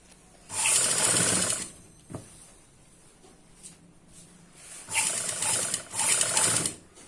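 Sewing machine running in two bursts while stitching a front neck design on a garment, a steady close mechanical whir with a brief click between runs and a quiet pause before it resumes.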